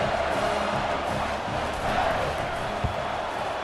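Stadium crowd in the College Football 25 video game roars steadily after a score in an Alabama vs Tennessee game, a loud, dense wall of cheering and whooping that holds for the whole stretch.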